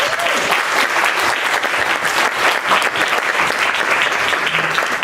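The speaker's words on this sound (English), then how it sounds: "let's have a big round of applause for Generation Grant" A large theater audience breaks into sustained, dense applause, a steady wash of clapping that holds at full strength throughout with no voices over it.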